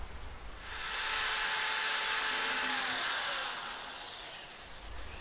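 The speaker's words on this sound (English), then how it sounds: "I will pre-drill some holes for nails." Power drill pre-drilling nail holes in thin wooden trays for a DIY bar cart, one sustained high whirring bore of about four seconds that rises and fades, close and alone.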